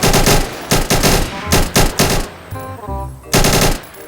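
Bursts of automatic gunfire in a Thai army roleplay video game, several loud rapid strings of shots separated by short gaps, close and dominant with no talking.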